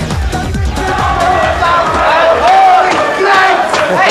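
Large football crowd at Molineux stadium roaring and chanting in celebration, a dense, loud, continuous wall of voices from a packed stand.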